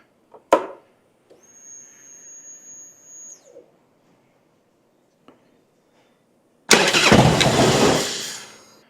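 A 1999 Harley-Davidson Road King motorcycle cranks over in a few short bursts with a brief whine, then its engine catches and roars loudly for about two seconds, close and alone.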